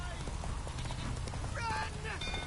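The horse Roach in The Witcher 3 trotting, quick rhythmic hoof clip-clops under a continuous low rumbling game soundtrack, with brief tonal effects in the middle.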